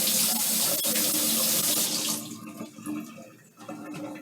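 Kitchen tap water runs steadily into a sink as an onion is rinsed for bruschetta, a loud hissing splash that cuts off and gives way to fainter dripping and handling noise, with no talking.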